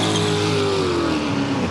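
A Cadillac race car at the Rolex 24 at Daytona roars loudly and continuously, its engine tone sliding slowly downward as it passes, with no talk.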